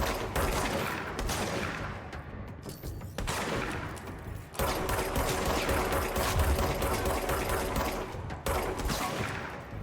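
Dense rapid gunfire from a shooter game, Control, with bursts and volleys filling the whole span, loud and close, punctuated by brief gaps and sharp impacts.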